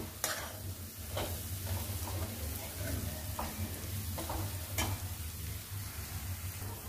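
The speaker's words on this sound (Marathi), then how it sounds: "मिश्रण सतत ढवळत राहायचं आहे, असं परतत राहायचं आहे, नाहीतर हे जळू शकतं" Red chili thecha mixture stirred continuously in a pan, a steady frying sizzle broken by repeated scraping strokes of the spoon at irregular intervals, close and moderately loud with no talking.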